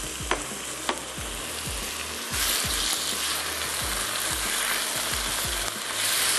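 Chopped tomatoes sauté in a pan for a shredded beef sauce, sizzling steadily and loudly up close while a spoon scrapes and taps against the pan in a loose, repeated stirring rhythm.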